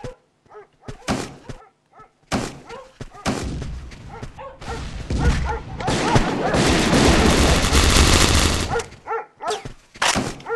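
Gunfire in a 3v3 urban-map multiplayer video game match: sharp shots and thuds, with a dense sustained burst of fire in the middle of the clip and isolated reports at either end.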